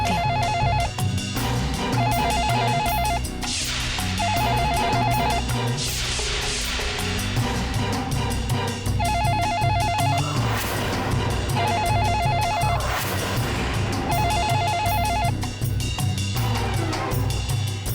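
A telephone rings in a Hindi TV drama scene, with repeated bursts of an electronic ring at a steady rhythm. The ringing sits over loud, continuous dramatic background music, and no one speaks.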